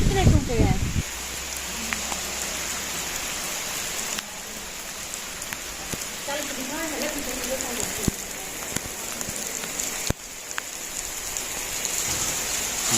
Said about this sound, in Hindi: बहुत तेज़ बारिश हो गई है